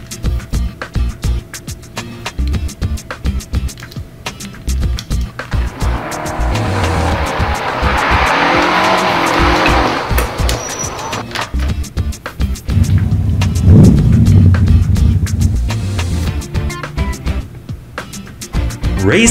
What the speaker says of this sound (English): Race car number 4.